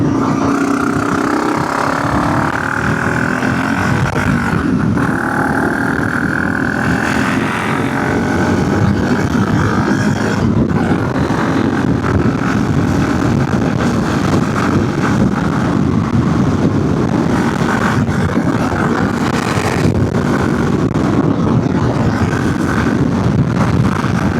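A BMW G650GS Sertao single-cylinder motorcycle fitted with a GRmoto aftermarket exhaust accelerates, engine note rising through gears amid heavy wind buffeting, loud and close throughout.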